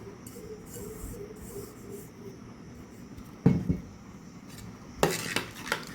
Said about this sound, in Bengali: এই যে এইগুলো সব এই দইয়ের মধ্যে দিয়ে দেবো, দিয়ে সুন্দর করে মিক্স করে নেব